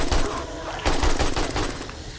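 AK rifle gunfire in the 7 Days to Die video game: two short bursts of rapid automatic shots, loud and close, separated by a brief pause.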